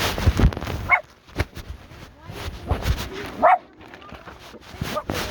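Dogs bark in two short loud bursts, one early and one later, amid people talking and shuffling noises nearby.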